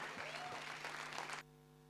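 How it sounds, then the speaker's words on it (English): Applause from the audience at the NASA India annual general body meeting in an architecture school hall, a dense burst of clapping that cuts off abruptly, leaving a low electrical hum. "Give a big round of applause."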